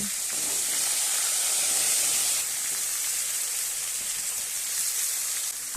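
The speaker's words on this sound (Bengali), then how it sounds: "5 ফোড়ন আর শুকনো লঙ্কাটা ভাজা হয়ে গেলে আলু, বেগুন, কুমড়োটা দিয়ে দিচ্ছি।" Chunks of potato, eggplant and pumpkin are tossed into hot oil that already holds panch phoron and dried red chillies, and they sizzle in a loud, steady, close hiss that barely varies.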